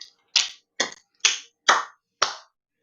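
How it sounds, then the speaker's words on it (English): One person claps five times, sharp and close, at slow even intervals with clear silence between each clap. "then clap your hand"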